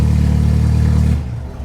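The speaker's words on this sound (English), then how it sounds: "That's a cold start." The engine of a Mini JCW Pro TC race car roars loud and close during a cold start, a deep, steady rumble that drops off to a lower idle near the end.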